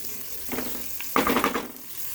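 Butter and onion frying in a saucepan give a soft hiss that rises suddenly midway into a brighter crackling burst, then settles back.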